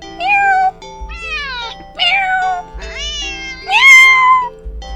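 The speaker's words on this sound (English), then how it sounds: "the cat meows sharply at you and dashes off around the corner into the hall" A cat gives a string of sharp, rising and falling meows, five distinct calls in quick succession, close and clear with no talking.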